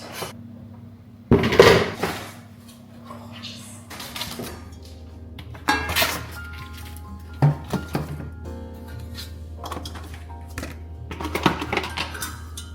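New shiny pots and pans clink and clatter as they are handled, with a sharp metallic knock early on and scattered lighter taps and rattles following at close range.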